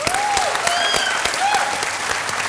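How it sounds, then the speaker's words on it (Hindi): A studio audience at a TV game show claps steadily throughout, a continuous even roar of hands with a few whistles cutting through. "तालियां"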